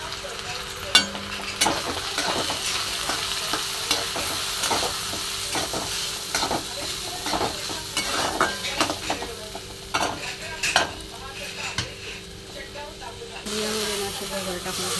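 Barnyard millet being stirred in a pan with red chillies and peanut powder, a spoon scraping and clacking in irregular strokes over a soft sizzle, close and fairly loud.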